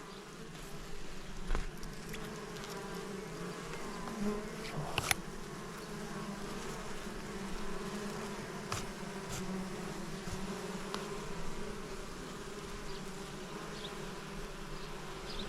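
Honeybees drone steadily around a village beehive outdoors, a dense, continuous buzz close by with individual bees passing near, and a few faint knocks and rustles but no voices.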